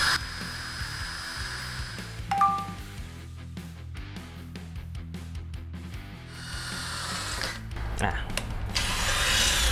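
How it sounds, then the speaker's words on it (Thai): An INGCO 20V cordless drill whirs in short bursts, then runs more steadily and louder toward the end, with rubbing and handling noises between. "ก็ประมาณนี้สำหรับตัวสว่านเจาะได้นะครับ"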